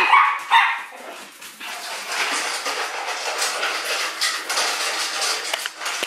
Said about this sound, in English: She does this bark thing every single day for both of their feedings.